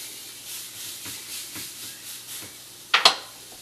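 Steak sears in a hot pan, building a crust: a soft, steady hiss swells and eases in rhythmic waves, then two sharp louder spits near the end, heard close without speech.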